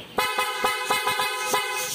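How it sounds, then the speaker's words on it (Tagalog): A loud aftermarket horn on a Honda ADV 160 scooter honks repeatedly in short, rapid toots, about seven bursts in two seconds, loud and close, with no talking. "Lakas. Ng busina mo ngayon."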